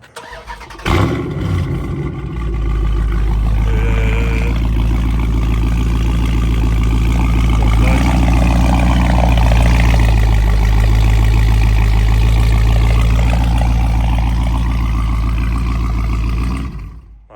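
A Dodge Charger Scat Pack cranks up close by with a sharp starter burst, then settles into a loud, deep, rumbling idle that holds steadily for over fifteen seconds.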